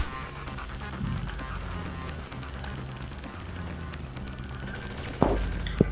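Gunfire in the video game Grand Theft Auto V Online, scattered shots and bursts in a busy game mix, with a couple of sharper louder cracks near the end.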